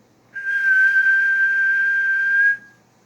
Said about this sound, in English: Ref blows a whistle.